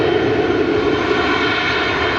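A small Embraer jet taking off at Sky Harbor International Airport, its engines holding a steady, loud broadband roar with no voices present.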